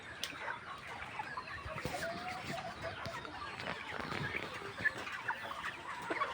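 Chickens cluck at low level in a poultry flock where several birds have watery, pus-filled eyes, soft scattered calls under steady background noise throughout.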